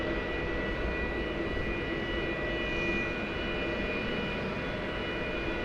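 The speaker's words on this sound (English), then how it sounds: "that Dreamliner is now moving into position to take off for Phoenix" A Boeing 787 Dreamliner at DFW Airport, heading for Phoenix, fills the air with a continuous jet engine roar and a thin whine, steady and fairly distant, with no voices.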